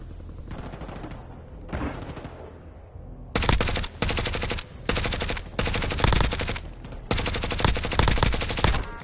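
Call of Duty gunfire rattles in loud bursts of rapid automatic shots, separated by short pauses and building into near-constant firing.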